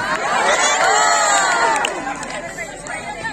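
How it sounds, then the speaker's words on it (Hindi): A mushaira audience at a humorous poetry recital bursts into loud cheering and clapping that swells, then fades after about two seconds, with crowd chatter underneath. "जोरदार तालियां"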